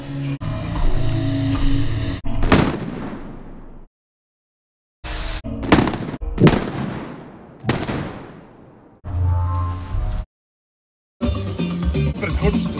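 Firecrackers going off in a series of loud, sharp bangs, each trailing a decaying rumble, with short silent gaps between bursts and a final noisy crackling stretch.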